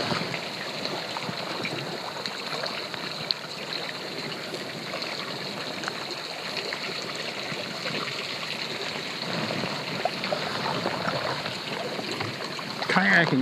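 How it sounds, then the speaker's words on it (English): Water from hot springs coursing off a rock shelf into a lake in Yellowstone, a steady broadband rush and trickle that holds even throughout, with soft faint ambient texture and no talk. "And you just listen to the water coursing off the shelf of rock and into the lake."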